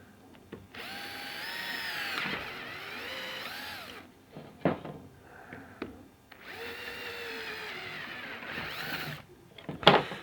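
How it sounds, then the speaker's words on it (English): A power drill boring holes in a foam pool noodle whines in two long bursts with brief pauses and small knocks between, close and fairly loud, no talking. "we're going to drill one hole this way and one hole this way"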